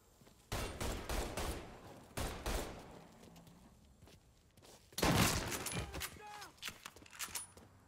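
Gunfire in the video game Mafia III comes as several loud bursts of rapid shots with sharp impacts, close by, separated by brief pauses, with someone talking faintly between them.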